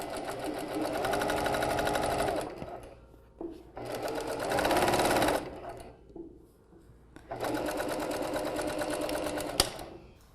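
A sewing machine chain-sews one fabric seam straight into the next, backing up to stitch across. It runs in three loud, steady bursts of rapid stitching, separated by short near-silent pauses.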